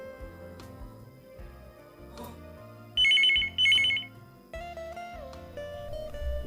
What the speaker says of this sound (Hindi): पहले कॉलर का टेलीफोन कॉल।